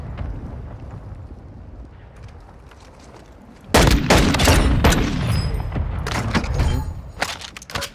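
Gunfire and shelling in a multiplayer shooter, with a sudden loud volley of blasts and crackling shots that starts midway and keeps pounding densely through the rest, after a quieter rumbling stretch.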